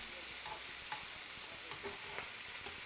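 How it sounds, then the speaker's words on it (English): Shrimp fry in a pan with a steady, close sizzle, broken by a few sharp pops and scrapes as the pieces are stirred. "while the shrimp is frying there"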